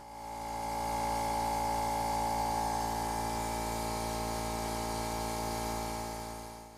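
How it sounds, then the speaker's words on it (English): An airbrush sprays edible food colour onto a cake on a turntable, giving a steady, soft hiss with a faint motor whine that fades in and out. "Danielle uses a cake turntable to help with spinning the cake around as she sprays."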